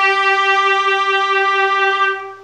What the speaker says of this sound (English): you can go faster and eventually you will produce a vibrato